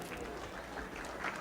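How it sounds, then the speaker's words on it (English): Applause from a studio audience at a live 1989 MDA telethon broadcast, a steady, fairly faint wash of clapping lasting the whole short moment with no pause. "Let's give them a big round of applause,"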